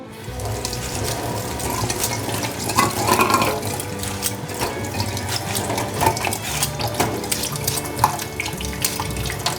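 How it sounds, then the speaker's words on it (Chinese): Tap water runs steadily into a sink while taro is peeled by hand, a continuous splashing stream with small scraping and knocking sounds mixed in. "开点水比较好削。"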